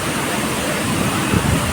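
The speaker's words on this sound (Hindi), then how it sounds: "दादा ए देखा विकराल रूप हमर सिद्ध खोल के झरना" Siddhkhol waterfall near Kasdol roars in full spate, a dense, loud and continuous rush of falling water that fills the whole moment without a break.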